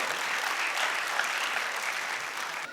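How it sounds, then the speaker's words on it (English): Audience at a medical college graduation ceremony applauding the chief guest, a steady dense wash of clapping from many hands filling the hall throughout. "a big round of applause for the chief guest"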